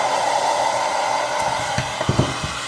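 A hair dryer blows steadily on a raven's feathers during a bath for lice, a loud continuous close whoosh with a few soft knocks and handling bumps toward the end.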